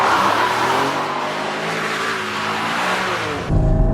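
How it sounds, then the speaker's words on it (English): Porsche Cayman GT4 engine and exhaust while driving, a sustained loud metallic engine drone with rising harmonics under acceleration, then a brief shift in tone near the end. "there's not that much racket coming out of the exhaust."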